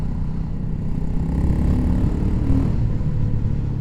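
A single-cylinder BSA Goldstar motorcycle engine idles and burbles nearby with a steady, low, thumping rumble, no voices over it.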